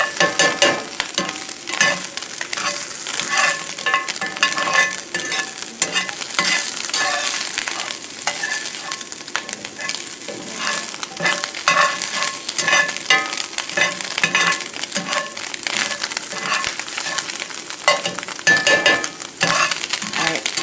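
Diced Spam fries in a pan and is stirred, rendering its fat. A dense, continuous sizzle runs throughout, with frequent scraping and clinking from the spatula against the pan, close and steady.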